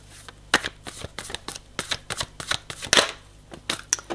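Tarot cards are shuffled and drawn in a quick series of crisp riffles, slaps and flicks, close and fairly loud, with uneven bursts of paper sound and no talking.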